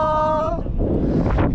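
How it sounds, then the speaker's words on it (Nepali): Wind gusts across the microphone on a mountain trail in eastern Nepal, a steady close rumble and rush throughout, with a brief tonal sound in the first half second. "तर हावा चाहिँ मिठो आइरहेको छ"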